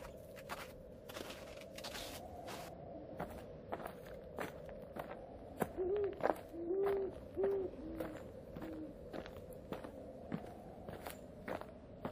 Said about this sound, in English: I heard the forlorn but melodious note of a hooting owl indefinitely far